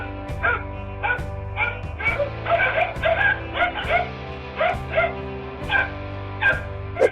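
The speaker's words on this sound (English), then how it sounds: "These dogs are putting their lives on the line in order to prevent a cobra from getting into the house" Several dogs bark and yip repeatedly in an uneven, overlapping rhythm, close and fairly loud, guarding a house against a cobra; a few whimpering yelps mix in among the barks.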